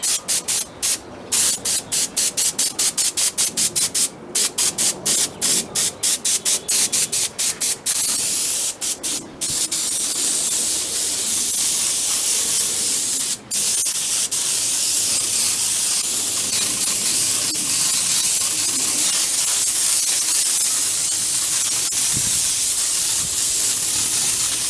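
A small sprayer mists Trans Tint Ruby Red dye onto wood in rapid short bursts of hiss, then a long steady close-up spray that runs on for many seconds with no talk.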